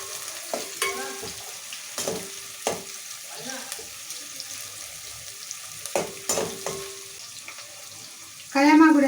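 Onions frying in oil give a soft, low sizzle close by. A spoon stirs them with repeated sharp clanks against the pan, and a brief burst of louder hiss comes near the end.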